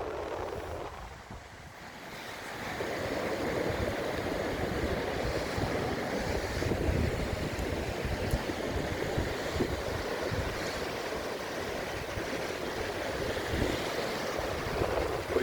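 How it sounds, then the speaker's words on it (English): Sea swell breaking and washing on a beach with a steady wind buffeting the microphone, a continuous broad roar of surf that dips briefly at the start then holds loud and even. "the tide has turned. It'll soon be back in. There's quite a swell out there."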